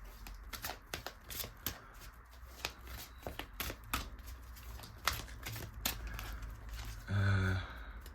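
Tarot cards are shuffled in repeated quick riffling bursts, close and fairly quiet, with a soft breathy voice sound near the end.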